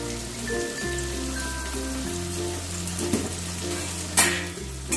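Bitter gourd pieces seasoned with salt and turmeric frying in a pan for Bengali shukto, a steady close sizzle running throughout with a low background hum and a brief louder crackle near the end.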